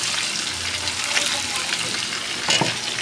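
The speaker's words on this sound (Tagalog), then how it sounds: "Gisa ko na yung sibuyas," Onion, garlic and ginger sauté in a pan in a dim kitchen, a close, steady sizzle with occasional stirring scrapes and louder bursts near the end.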